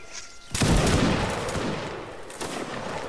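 A reenactment regiment fires a musket volley: a sudden loud, ragged crash of many shots that rolls on and slowly fades, followed by a second, smaller crackle of fire.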